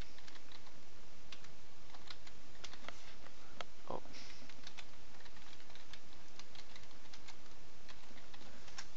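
Rapid clicking keystrokes on a computer keyboard while typing into a search bar, a steady patter of close taps with brief pauses over a constant background hiss.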